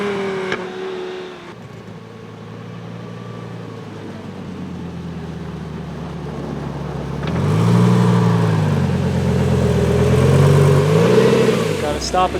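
A Lamborghini engine revs and accelerates on a snowy road in Summit County, Utah, its deep note rising and falling close by, growing louder toward the end with brief voices over it.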